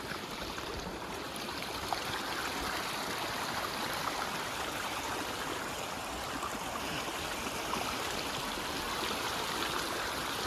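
A small river in north Kajiado, Kenya runs as a steady, even wash of flowing water, close and continuous, with no voices.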